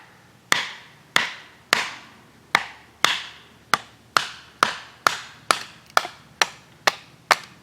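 An L.T. Wright Genesis knife chops and splits a hardwood piece in about fourteen sharp, close, evenly paced strikes, each a crisp crack with a short ringing decay, getting faster toward the end.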